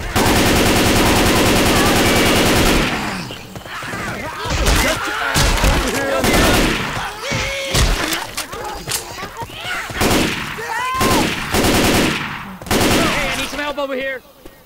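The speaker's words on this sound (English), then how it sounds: "Shoot the tank! Keep shooting!" Rapid automatic gunfire in Left 4 Dead 2 as survivors fight a Tank in The Parish, loud and sustained bursts with heavy thuds, mixed with shouting voices between volleys.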